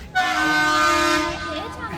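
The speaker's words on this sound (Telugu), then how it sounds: "ట్రైన్ వెళ్ళిపోతుంది." A toy train's horn at Lovedale railway station near Ooty sounds one long, loud, sustained toot that fades near the end, with a brief voice at the tail.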